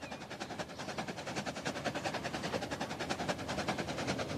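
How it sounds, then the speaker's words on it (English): Trains rolling past on a Midlands rail line in the Transport Fever simulation game, a steady rumble with a rhythmic clatter of wheels over rail joints that pulses evenly throughout, fairly close and continuous with no talking. "We've got another train coming through."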